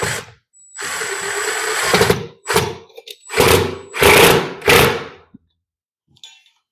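A power drill fitted with a fresh bit, cut into shelf or lazy Susan stock at a table saw workbench, runs in several loud bursts of whirring, a long one and then shorter stop-start pulls.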